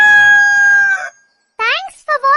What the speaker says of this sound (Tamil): This is rooster, சேவல். அதிகாலையில் அனைவரையும் எழுப்பும்.